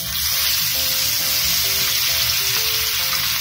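Pomfret (paplet) fish pieces frying in oil in a flat-bottomed pan or tawa over a low flame for an Indian coastal fish fry, a steady, loud, continuous sizzle and crackle with no voices.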